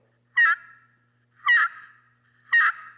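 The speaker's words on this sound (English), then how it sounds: "you always want to bring the striker forward in kind of a circular motion to make the yelp." Three separate turkey yelps made by drawing a striker forward in a circular motion across a slate friction call, each a brief raspy note, close and clear with even gaps and no voices.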